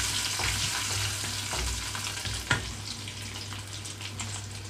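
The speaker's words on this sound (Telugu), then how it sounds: "మీడియం ఫ్లేమ్లో స్టవ్ ఉంచేసి తాలింపంతా వేయించుకుంటున్నాను" Cashews and tempering spices frying in oil over a medium flame, a continuous close sizzle with light stirring scrapes and a single sharper tap partway through.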